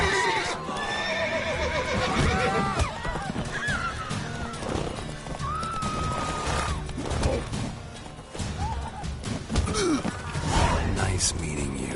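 A horse whinnies in the Witcher video game, set against a busy mix of game sounds and voices.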